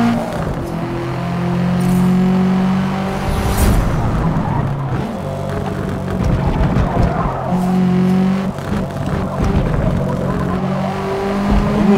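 A tuned Subaru in the Forza racing game accelerates hard, its engine droning loudly as tires squeal and skid through corners, the revving rising and falling throughout without any talking.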